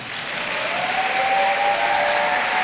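A church congregation breaks into strong, sustained applause. The clapping fills the room evenly and builds slightly before holding steady, with a faint sustained tone running underneath.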